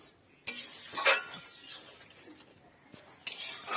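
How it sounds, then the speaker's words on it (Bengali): Stirring an arrowroot mixture into a dish in a metal pot, with a few sharp utensil clinks against the pot and soft scraping between them, close and quiet. "সেই অ্যারারুট গুলাটা আমি দিয়ে দেবো এর মধ্যে। দিয়ে দিলাম। দেওয়ার পরে একটু নাড়িয়ে দেবো।"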